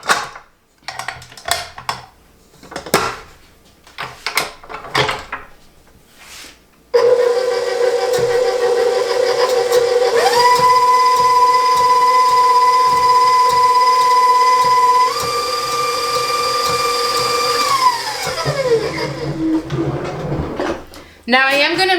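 An electric mixer beats brownie batter after eggs and vanilla are added, a loud steady whine that steps up in speed twice and then winds down, preceded by clattering kitchen sounds.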